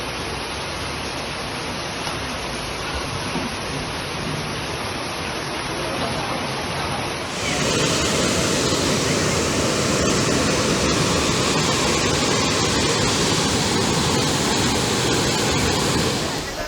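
Rushing floodwater after heavy rain in a flooded area, a steady broadband roar like a waterfall that swells louder midway and stays close and constant, with no speech over it.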